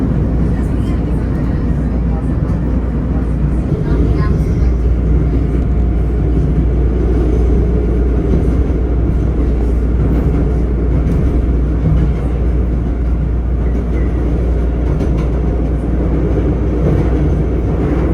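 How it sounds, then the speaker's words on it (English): Rumbling, rattling ride noise of a Chicago Blue Line subway train in motion, a steady dense roar with occasional clunks, and no speech standing out. "This is a Blue Line train to BYC Halstead."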